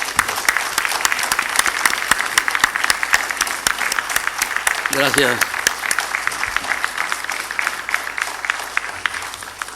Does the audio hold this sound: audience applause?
yes